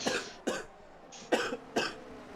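Four sharp coughs from a man with a cold, close and fairly loud, spaced about half a second apart, with quiet pauses between them.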